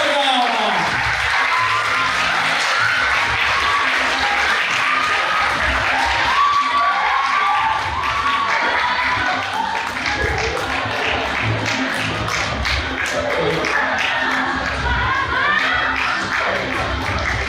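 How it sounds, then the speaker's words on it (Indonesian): Sustained applause from an audience for a school choir from a Catholic junior high in Surabaya at an awarding and closing session, dense clapping with some cheering and shouts, steady and loud throughout. "Sekali lagi kita beri tepuk tangan yang meriah"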